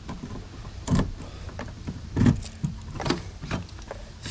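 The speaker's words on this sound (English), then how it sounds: "let's get in the old blue truck here" Someone climbs into an old blue GMC/Chevy 6.5L diesel truck: a few separate bumps and clunks of the door and cab, with short jingles of keys, close and sparse across a few seconds.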